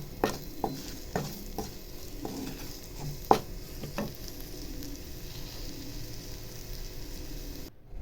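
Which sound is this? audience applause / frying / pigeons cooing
frying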